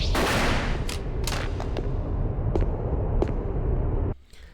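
Shotgun and grenade launcher fire in the game Shadow Tower: Abyss: a dense, loud roar of blasts with several sharp, separate bangs standing out, cutting off abruptly near the end.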